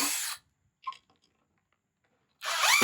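A power drill drives screws into the legs of utility shed shelving, with two short, loud whirring bursts separated by a long silent gap, the second winding up and down as the screw seats.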